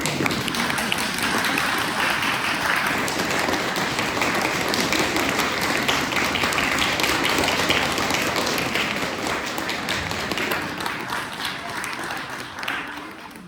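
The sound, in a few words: audience applause at a New Year celebration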